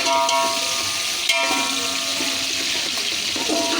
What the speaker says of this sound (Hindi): अभी हम टमाटर को फ्राई करेंगे ऑयल में